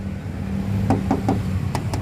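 Knuckle taps on the rear door panel of a 2013 Kia Rio manual hatchback, five quick hollow knocks in two groups, close and fairly crisp over a low steady hum.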